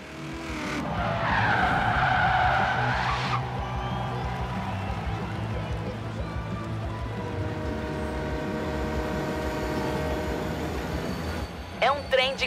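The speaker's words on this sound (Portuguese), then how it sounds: "É um trem de carga." A freight train in the Forza Horizon 3 racing game rolls past with a steady, loud rumble and layered mechanical drone that holds through the whole stretch, a brighter screeching burst early on and a few sharp clanks near the end.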